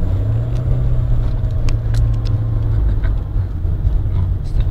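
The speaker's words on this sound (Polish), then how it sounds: "obroty pójdą do góry, a nie przyspieszę." A car on snowy winter roads in Dublin, fitted with summer tyres, revs without gaining grip, giving a steady, close low engine rumble throughout with faint higher clicks.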